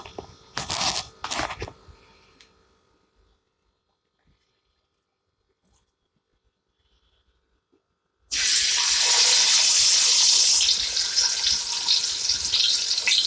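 Fish pieces drop into about five spoons of hot oil for fish majboos and set off a sudden, loud, continuous hissing sizzle after a long stretch of near silence, with a few brief clatters at the start.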